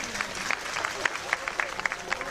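Crowd applause at a traditional Turkish oil wrestling tournament in Şile, a steady patter of clapping with sharper individual claps, under a loudspeaker announcer's voice.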